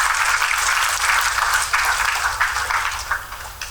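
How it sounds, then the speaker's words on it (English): Audience applause at the Road Safety Week 2021 launch, a sustained and fairly loud wash of many hands clapping that slowly tapers off toward the end. "Let's give everybody a round of applause for the role they have played."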